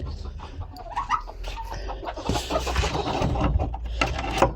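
Several chickens cluck close by in a busy yard, a jumble of short overlapping clucks and squawks rising and falling over a low rumble, with no one speaking.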